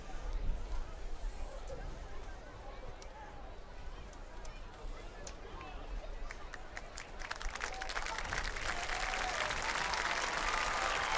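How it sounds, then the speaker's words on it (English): Fans of both teams applaud at a high school football game between the Pieper Warriors and the Davenport Wolves, scattered clapping under crowd murmur that builds into a fuller, steady round of applause toward the end. "Nice round of applause by fans of both teams"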